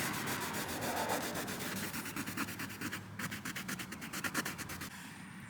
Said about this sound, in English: Now I'm going to wipe all this excess off.